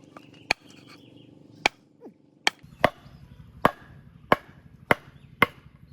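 Beef is chopped into small pieces with about nine sharp, loud cleaver strikes spaced roughly a second apart, ringing out alone against a quiet kitchen.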